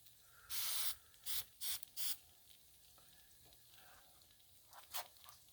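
Cooking oil sprayed onto a Blackstone griddle in several short hissing bursts: one longer spray, then three quick ones, and two faint puffs later, close and crisp over quiet background.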